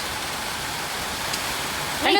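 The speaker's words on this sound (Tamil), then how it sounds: "மழை வேறு பெய்யுது" Steady rain falls in a rural home setting, a soft even hiss filling the background throughout, with a brief louder rustle near the end.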